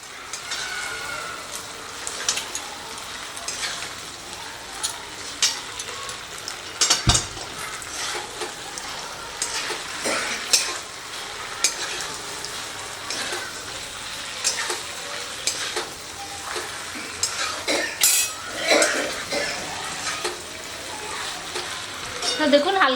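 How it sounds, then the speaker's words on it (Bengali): Chicken lollipop pieces are tossed in a pan, giving a continuous soft sizzle with scraping and stirring clatter, fairly close, running the whole time. "এবারে এগুলোকে এর মধ্যে দিয়ে দিচ্ছি। দিয়ে হালকা করে টস করে নেব।"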